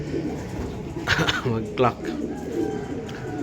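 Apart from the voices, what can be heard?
racing pigeons cooing at the loft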